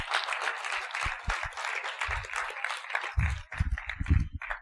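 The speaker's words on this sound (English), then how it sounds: "Can we clap for this young man here?" Audience applause and clapping for a young actor at an acting workshop, a dense wash of many hands with a few louder bursts near the end.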